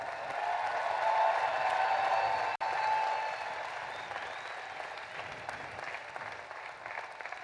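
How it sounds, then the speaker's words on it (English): A large audience at the University of Illinois Urbana-Champaign 2024 commencement applauds the graduates, a dense, steady roar of clapping that holds loud and then eases slightly toward the end. "Let's give all of our graduates one more round of applause."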